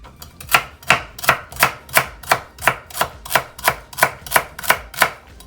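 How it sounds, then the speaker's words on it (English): A kitchen knife dices celery stalks on a cutting board for cornbread dressing, giving a steady run of about fourteen crisp, evenly spaced chops, close and loud, with no voices. "we're gonna move on to working on dicing up our celery"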